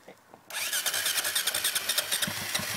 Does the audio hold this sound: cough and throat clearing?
no